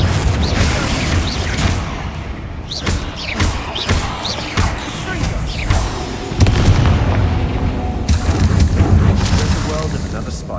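In the Hogwarts Legacy video game, a Confringo fire spell blasts with heavy booming impacts amid combat thuds and crackling effects, loud and close, while voices speak during the fight.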